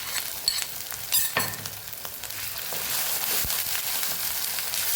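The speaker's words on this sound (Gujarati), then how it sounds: "સરસ એવું આપણે આદુ લસણ અને મરચાંને સાતળી લેવાનું" Ginger, chilli and garlic paste sautés with onion in a pan, a continuous sizzle and crackle with scattered pops and a few scraping stirs, growing slightly louder toward the end.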